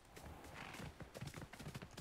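A horse in the video game Hogwarts Legacy gallops with quick, rhythmic hoof clops and lets out a neigh, heard faintly and up close.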